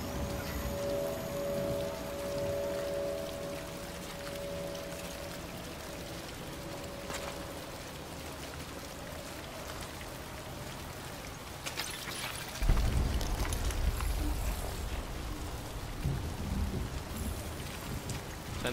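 Steady, dense rainfall hisses continuously in a video game, with a deeper rumbling surge partway through that swells and lingers.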